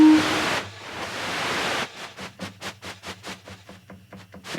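The noise oscillator of a Cherry Audio GX-80 synthesizer hisses as a loud broadband wash, breaks off briefly, then returns as a rapid series of rhythmic noise bursts.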